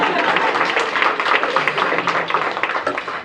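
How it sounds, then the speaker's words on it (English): Partway through Mayor Bowser's speech at a DC childcare summit, the audience breaks into dense, steady clapping that fills the room, then fades off at the end. "That's clap worthy."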